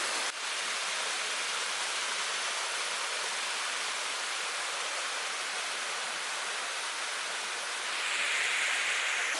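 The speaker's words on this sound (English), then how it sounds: "there's a waterfall, and there's an even bigger one right up above it" A waterfall in the San Gabriel Mountains, near an old gold mine, pours as a steady, loud, broadband roar. The rush holds constant with no talk and swells slightly near the end.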